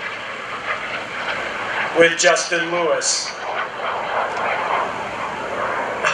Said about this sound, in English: Oh, I love the sound of that engine.